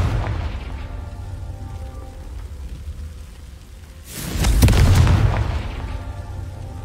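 A Confringo fire spell explodes in Hogwarts Legacy as a single loud, rumbling boom midway, set against steady ambient game noise.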